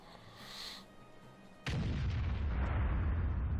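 A tank cannon shot in World of Tanks on the Mines map, a sudden heavy boom that cuts in mid-clip after a quieter engine hum and leaves a loud, sustained rumbling roar.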